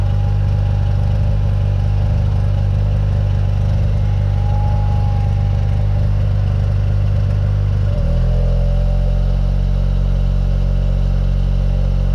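A hairdryer drying out a flood-damaged Volvo S60 gives a steady, loud motor drone with a constant whir, shifting to a deeper, heavier hum partway through, running alone without voices.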